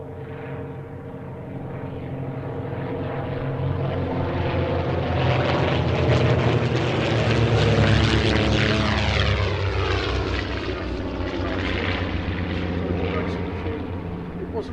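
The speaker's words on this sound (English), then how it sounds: "the Comet's powered by two 230 horsepower Gypsy 6 engines, giving it a top speed of around about 238, 240 miles an hour" A de Havilland Comet racing aircraft with two 230 horsepower Gipsy Six engines, a loud droning propeller roar that swells as it passes close by at an airfield air show, then slowly recedes, steady throughout.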